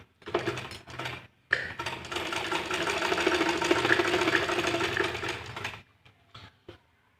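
A sewing machine stitching a kurta gives a few short starts, then runs steadily for about four seconds in a close, even whirring rattle, and ends with a couple of brief bursts.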